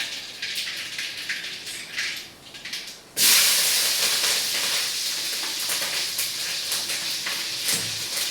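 Mustard seeds and green chillies hit hot oil in a pan for bean sambar, setting off an abrupt, loud, steady sizzle and hiss that continues unbroken after a quieter start.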